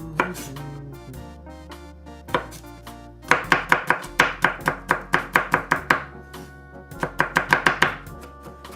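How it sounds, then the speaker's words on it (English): Garlic is crushed and chopped on a board for frying, with rapid bursts of sharp knife taps in quick rhythmic runs separated by short pauses, close and crisp, with no talking. "Now you want to ground this guy, so I guess crushing it is the first thing"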